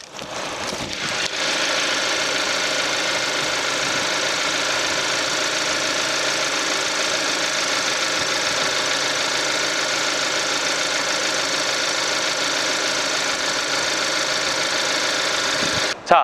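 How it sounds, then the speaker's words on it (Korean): A 2.4-litre Hyundai YF Sonata engine idles steadily nearby, an even mechanical hum with a faint ticking rhythm, unbroken for the whole stretch before a short bump at the end. "2400cc 차량의 엔진 소리 한번 들어보겠습니다"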